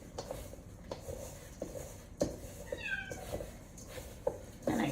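A Bengal cat meows once in a rising, drawn-out cry partway through, heard over a busy kitchen background with clicks and knocks.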